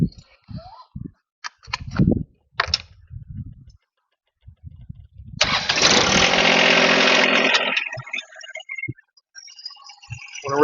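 A John Deere tractor fitted with a loader drives up and its engine rises into a loud, steady rumble for a few seconds before easing off, preceded by short bursts of voices.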